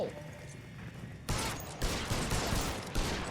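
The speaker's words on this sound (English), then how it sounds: "But wait, why are we in a shootout with these guys?" Gunfire crackles through a shootout in the video game L.A. Noire. Quiet background gives way to a sudden burst, then a rapid string of loud overlapping shots with several sharp peaks, running steadily to the end.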